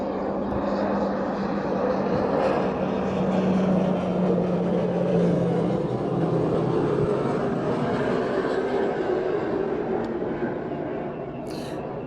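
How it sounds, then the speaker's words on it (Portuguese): A passing airplane rumbles overhead with a broad, steady engine drone that stays fairly loud throughout, slowly shifting in tone as it moves across the sky. "Tem mais avião passando."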